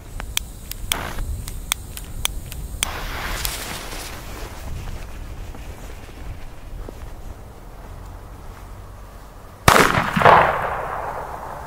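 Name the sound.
old Keller Super Böller A firecracker explosion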